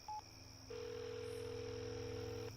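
In a radio drama, a brief telephone beep is followed by a steady, faint dial tone that hums on alone until the end.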